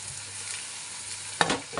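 Onions and freshly added tomato fry in a pan for a fenugreek-leaf gravy, a steady quiet sizzle broken near the end by a sudden louder burst of crackling and stirring; no talk.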